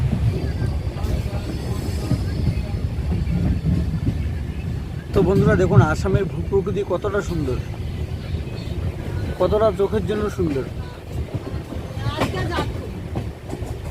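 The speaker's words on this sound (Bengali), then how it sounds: "গোয়ালপাড়া টাউন থেকে ট্রেন ছেড়ে গেল।" A passenger train leaving Goalpara Town station in Assam on the Kamakhya to Siliguri route rumbles steadily along the rails, with rhythmic wheel clatter beneath someone talking.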